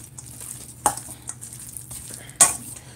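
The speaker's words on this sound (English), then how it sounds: "So you just stir it up," A spoon stirs chicken jalapeno quesadilla filling in a pan, giving two sharp scrapes against the metal and softer clinks between them, over a low kitchen hum.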